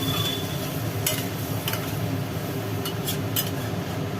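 Potatoes, ridge gourd and poppy seed simmering in a pan after water goes in, a dense steady bubbling hiss with a few short metallic clinks of a spoon, no talking.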